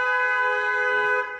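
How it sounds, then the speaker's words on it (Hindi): A long, continuous car horn honks during a driving lesson before a blind turn, loud and steady for over a second before fading slightly at the end. "लॉन्ग हॉर्न पुश करो"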